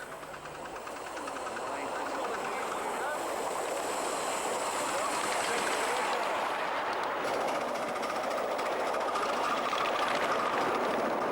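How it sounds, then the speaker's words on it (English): A Brighton Atlantic steam locomotive, North Foreland, runs on the Great Cockrow miniature railway, a steady rushing chuff and rail rumble that swells as it nears, with someone narrating over it. "The beautiful Brighton Atlantic North Foreland is driven by Guy Radley from the Belgian National Railway, running under clear signals."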